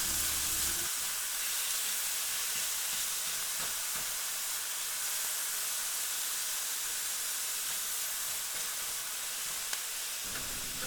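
Meat for spaghetti bolognese searing in a hot pan, heard as a constant broad, even sizzling hiss held at the same level from start to finish, with no talking.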